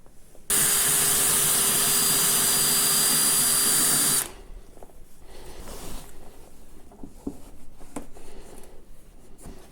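A power drill fitted with a stiff brush whirs loudly and steadily for about four seconds while scrubbing stained snowmobile plastic, then stops, leaving quiet scraping and handling noises.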